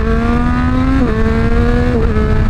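A Yamaha R9 motorcycle engine under way, loud and close with a steady droning hum that steps up in pitch twice as it shifts gears, no voices.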